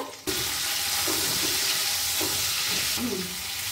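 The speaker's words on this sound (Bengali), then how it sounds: "এবার আমি কিশমিশটা একটু ভেজে দিলাম।" Cashews and raisins fry in oil in a pan for vegetable pulao, a loud, steady hiss of sizzling close by with a few soft stirring scrapes.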